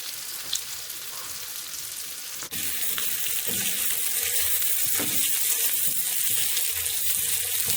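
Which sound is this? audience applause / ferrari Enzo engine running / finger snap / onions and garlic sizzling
onions and garlic sizzling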